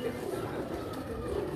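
Fancy breeder pigeons on a rooftop loft give soft, low, continuous cooing, fairly faint and close, with a steady murmur in the background.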